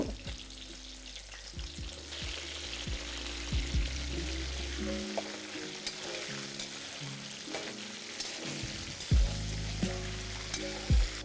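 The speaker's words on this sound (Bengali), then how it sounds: "এবার এই একই তেলে আমি পটলটাকেও ভেজে নিচ্ছি।" Pieces of pointed gourd (potol) fry in hot oil in a pan, a steady close crackling sizzle with occasional stirring clatters and a few sharp knocks, with no talk over it.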